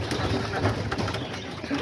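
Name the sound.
pigeons cooing in their cage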